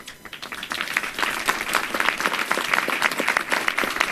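An audience at a New York City mental health announcement applauds steadily, dense clapping building within the first second and continuing loud and even throughout.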